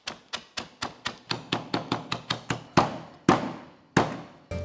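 Cornflakes are crushed in a mortar with a pestle, giving a run of sharp, evenly spaced pounding knocks that slow toward the end, close and loud with no voices.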